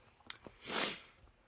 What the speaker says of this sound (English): Pardon the sniffing, it's fall, I have allergies.